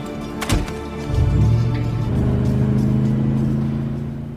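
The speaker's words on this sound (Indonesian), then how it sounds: "Dia pun kembali kabur dengan menggunakan mobil SUV-nya." An SUV drives away in a film scene: a dull thud, then a steady engine drone that swells and holds, fairly close, with no talking over it.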